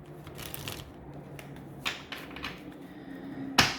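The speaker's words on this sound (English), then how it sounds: "let's pull out some oracle cards to get some advice" Oracle cards being shuffled in a quiet room, a soft continuous papery rustle with a few brighter flicks and a sharp snap near the end.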